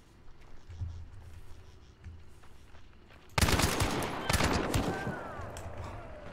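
Rapid automatic fire from an Avtomat rifle in a video game bursts out loudly after a few seconds of quieter ambient game sound, a dense rattle of shots with no talking.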